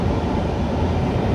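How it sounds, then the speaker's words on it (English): A Norfolk Southern general manifest freight train rolls by as a steady, loud, broadband rumble with no breaks or horn, filling the whole short stretch evenly. "It's a General Manifest GM train."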